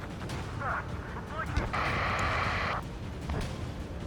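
A missile strike on an aircraft in Ace Combat 7: Skies Unknown, heavy rumbling blasts and engine roar with a sustained bright whooshing burst midway, a radio voice speaking over the din.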